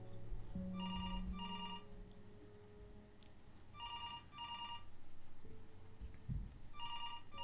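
A telephone ringing in the video game Before Your Eyes, repeated electronic ring bursts in pairs at a steady rhythm over a low sustained tone and faint background hum, moderately loud with no talk.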